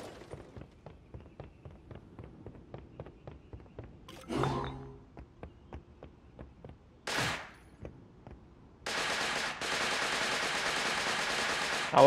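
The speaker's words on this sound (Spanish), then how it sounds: "¿A vos ya te están disparando?" Rapid gunfire in a Fortnite match, a steady run of sharp shots through the opening seconds, then a few louder bursts and a long, dense blast of noise near the end.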